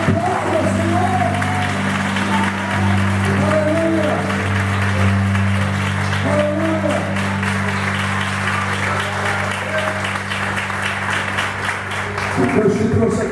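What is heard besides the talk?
congregation applauding in church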